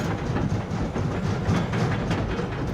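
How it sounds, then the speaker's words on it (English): A noisy trailer in the Farming Simulator video game rolls along with some wheels off the ground, producing a continuous loud rattling clatter like a train wagon. "Oh, that's a noisy trailer, though."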